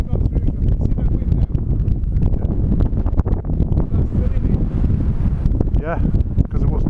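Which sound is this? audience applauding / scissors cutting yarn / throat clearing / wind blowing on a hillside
wind blowing on a hillside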